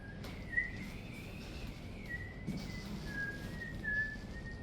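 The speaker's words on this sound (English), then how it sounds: "whistles out a tune for your good ear" A single person whistles a slow, wavering tune, the clear melodic line rising and falling steadily over about four seconds against a faint ambient background, with no talk.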